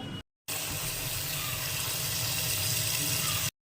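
Cut flat beans being washed under running water, a steady loud gush from a tap into a sink after a brief pause, close by and with no voices.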